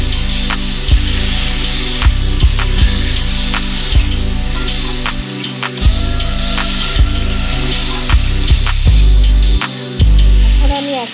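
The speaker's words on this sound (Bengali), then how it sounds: "টমেটোর কাঁচা গন্ধ যাওয়া পর্যন্ত একটু নেড়ে চেড়ে ভেজে নেব।" Onion and tomato paste frying in a pan with a loud, close, crackling sizzle and repeated spatula knocks and scrapes as it is stirred, with no one talking.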